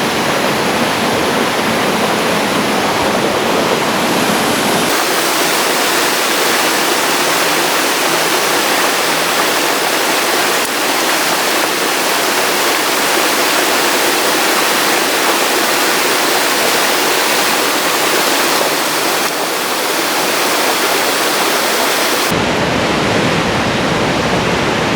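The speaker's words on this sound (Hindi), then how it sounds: "पानी का इतना फ्लो अगर किसी शहरी इलाके में होता तो उसका पता भी नहीं चलता, पर यहाँ इतनी शांति है कि इसका शोर कई सौ मीटर दूर तक सुनाई देता है।" A small waterfall in Great Himalayan National Park roars with a loud, constant broadband rush of falling water, close and unbroken for the full duration, with no voices over it.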